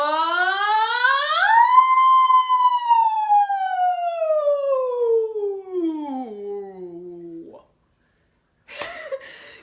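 A voice imitates a siren as a vocal warmup, sliding quickly up and then gliding slowly down in one long continuous tone, ending abruptly before a short breathy burst.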